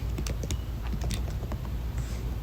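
Continuous computer keyboard typing, rapid close clicks and taps with no pauses over a low steady background hum.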